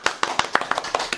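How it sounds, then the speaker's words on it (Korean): Several sharp hand claps in quick succession, close and fairly loud, welcoming a guest onto a Korean talk show about luxury goods distribution; a brief, sparse round rather than full applause. "박수."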